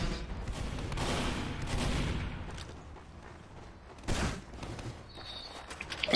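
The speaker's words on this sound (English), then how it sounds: "I hear it. I hear the sentry." In Team Fortress 2, a sentry gun fires in rapid bursts of gunfire, moderately loud with a sharp spike midway and a few footsteps and game sounds between the volleys.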